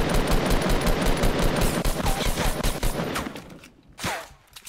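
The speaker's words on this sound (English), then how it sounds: "I lit the guy shooting at me." Gunfire in Fortnite Battle Royale: dense, continuous rapid-fire shots close and loud, thinning out toward the end with a final sharp shot, no talking over it.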